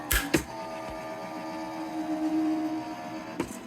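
A small craft machine hums and whirs steadily as it feeds paper through, bracketed by a couple of sharp clicks and clunks at the start and end.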